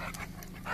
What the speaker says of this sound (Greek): Εδώ βλέπουμε τη σκύλα του να τρώει.